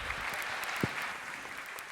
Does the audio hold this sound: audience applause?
yes